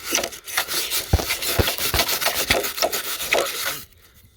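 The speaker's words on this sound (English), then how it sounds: "the wire brush off the old gas grill is just going to have to do" An old gas-grill wire brush scrubs rust off the frame of a Toyota 4Runner in rhythmic, harsh, rasping back-and-forth strokes close by. The scraping stops abruptly near the end, leaving near quiet.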